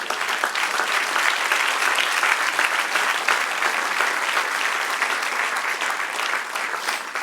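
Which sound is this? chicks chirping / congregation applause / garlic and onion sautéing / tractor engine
congregation applause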